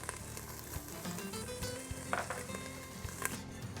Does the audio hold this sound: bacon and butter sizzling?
yes